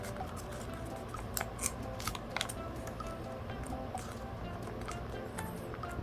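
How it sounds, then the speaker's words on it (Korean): Origami paper being folded into a triangle along a center crease for a mantis minicar model, with soft crisp creasing and rustling clicks over a steady low room hum, close and fairly quiet. "가운데 선을 중심으로 네, 삼각형을 접어주세요"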